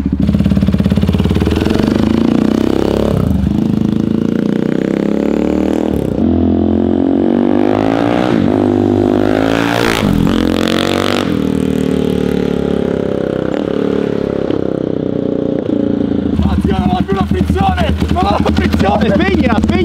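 A KTM motorcycle fitted with a new loud exhaust fires up for the first time and revs hard, a raw rasping engine roaring and surging close by, with people talking and shouting over it throughout.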